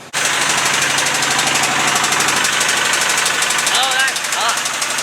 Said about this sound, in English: Because it's only running that side of the engine.